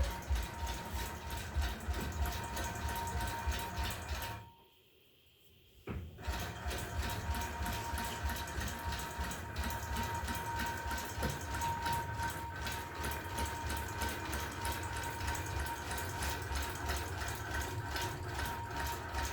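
A longarm quilting machine bastes along the edge of a quilt, a steady mechanical whir with a rapid ratcheting stitch pulse that cuts out briefly for a second and then resumes evenly.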